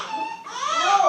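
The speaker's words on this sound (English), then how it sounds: "That's that newborn cry right there." A newborn baby cries in a continuous, rising wail that grows louder and more strained toward the end, with no speech over it.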